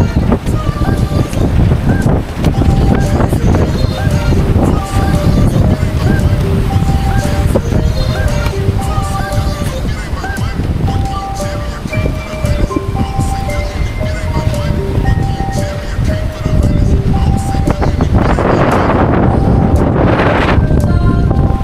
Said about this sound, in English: The weather is so getting so bad. The wind is too strong,